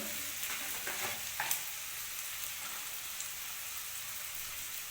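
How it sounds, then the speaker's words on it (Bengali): Vegetables frying in a pan before chicken momo filling is made, a steady sizzling hiss with a few brief scrapes of stirring early on, close and moderately loud. "আমি আনাজগুলো আগে ভেজে নিচ্ছি"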